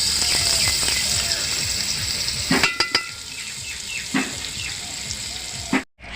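Butter and ghee sizzle together in a hot cooking pot, a steady close crackle that runs throughout, with a few sharp clinks of utensils partway through and a brief dropout near the end.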